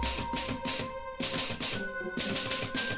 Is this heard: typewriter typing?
yes